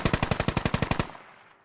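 A fast burst of about a dozen evenly spaced machine gun shots in the video game Squad, loud and close, ending abruptly with a short fading echo.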